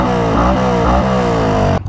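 A Yamaha R15 V3 motorcycle fitted with a Ronin Hanzo exhaust in silent mode idles and revs with a muffled, low exhaust burble, pitch rising and falling twice before cutting off abruptly.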